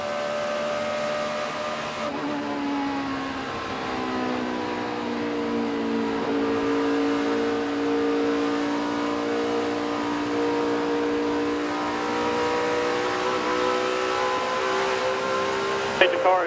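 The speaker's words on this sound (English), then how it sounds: "You hear Junior getting out of the gas and how close he is right up against that wall." A 2008 NASCAR Sprint Cup race car heard from inside the cockpit, its engine a loud steady drone that dips briefly as the throttle lifts off, then climbs again at full power.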